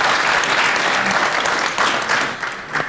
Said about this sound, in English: Can we applaud for her?